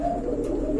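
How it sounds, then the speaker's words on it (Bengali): Rajgolla pigeons at a bird sale give a brief, low, steady coo, close and fairly loud, with no talking. "আরেক জোড়া রাজগোল্লা কবুতর আছে এখানে"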